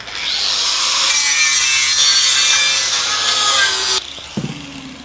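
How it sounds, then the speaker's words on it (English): A loud, steady abrasive grinding of paint off a cracked alloy wheel runs continuously for about four seconds, then cuts off, leaving a brief metallic knock and a fading hum. "Now we're going to grind away the paint on both sides."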